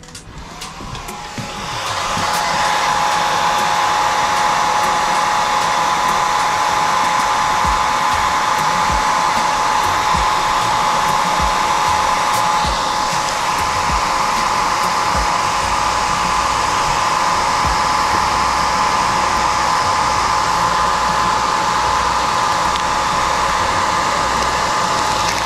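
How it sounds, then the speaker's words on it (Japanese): A hair dryer heating snowboard wax starts up and then blows loudly and steadily at close range, a constant whooshing hum for the whole stretch. "どれね、ドライヤー。"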